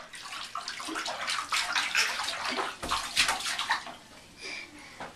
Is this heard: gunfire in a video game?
no